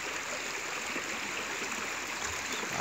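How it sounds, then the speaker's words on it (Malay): A river stream flows steadily at Kampung Tani in Karang Anom, a continuous broadband rush of water that stays even and close throughout, with no voices. "Ada sungai mengalir."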